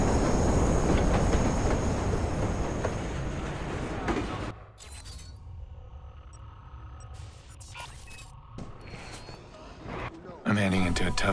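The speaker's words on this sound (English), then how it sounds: "Northbound train, arriving shortly." Subway train pulling into a station in the Watch Dogs video game, with loud rolling rumble and clatter that cuts away to a quieter interior hum, then surges back at the end.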